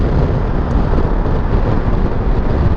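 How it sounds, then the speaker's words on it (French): A loud, steady Ducati Multistrada V2S motorcycle engine roar with a deep, breathy airbox intake rumble, continuous and close, with heavy wind buffeting throughout. "c'est un bruit de boîte à air"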